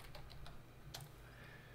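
Quiet keystrokes tap on a computer keyboard as an ifconfig command is entered, a short irregular burst of clicks close by with no talking.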